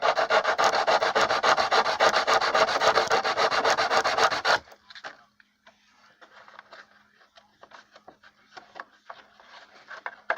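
A wooden wing rib is rubbed back and forth on sandpaper, giving a loud, steady abrasive scrape for several seconds, then stopping, leaving faint scattered handling noises.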